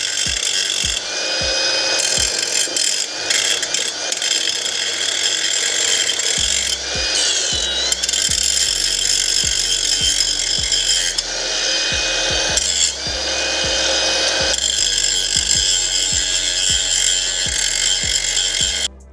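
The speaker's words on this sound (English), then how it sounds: "So let me get the grinder set up," An angle grinder cuts into a metal lower control arm on a Cadillac CTS-V drift car, a loud, close, continuous harsh grinding roar with brief dips and ticking contact clatter, and no talking.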